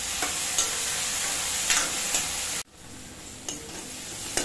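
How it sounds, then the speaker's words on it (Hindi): Tomato frying in a hing tempering for besan kadhi sizzles steadily while a spoon stirs it, scraping at regular intervals, with a brief dip in the sizzle midway and no talking. "तड़का मेरा भुन चुका है ये देखो।"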